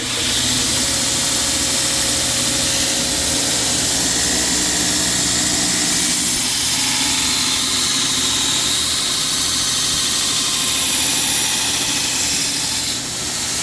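A belt grinder plunge-grinds the bottom bevel of a hand-forged bushcraft knife, giving a loud, steady, broadband grinding roar that runs unbroken for the whole stretch with no talking.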